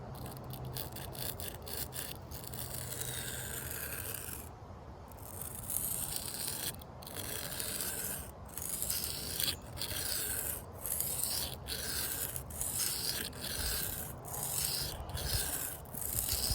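A blade drawn over a 120 grit sharpening stone in repeated rasping strokes, a steady scraping at first, then separate close strokes about once a second.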